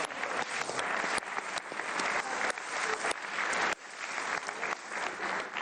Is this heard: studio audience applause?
yes